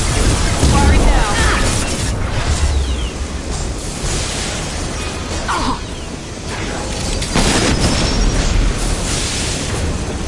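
An explosion after firing in Mass Effect 2 roars as a dense, loud rumbling blast that fills the whole stretch with continuous booming debris and whooshes.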